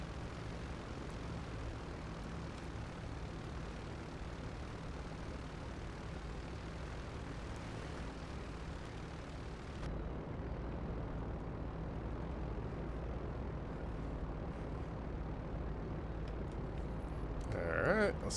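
Lockheed C-130 Hercules turboprop engines spooling up at takeoff power in Grand Theft Auto V, a steady broadband roar that thickens partway through and holds loud and continuous to the end.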